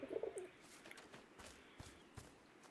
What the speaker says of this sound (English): Hello, pigeon. You look cute.